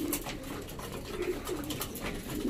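Racing pigeons in a loft aviary coo steadily in low, overlapping murmurs, a continuous close flock sound with no talking.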